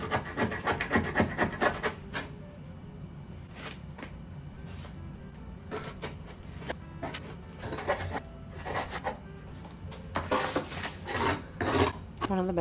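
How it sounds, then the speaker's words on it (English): Old flooring is peeled up and scraped off the surface in a back entryway renovation, heard as close, irregular rasping scrapes and rubs with scattered louder scratchy bursts. "I'm just peeling up all the loose stuff and cleaning the surface"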